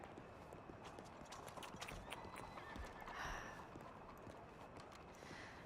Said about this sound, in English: Plenty of horses in front of the doctor's office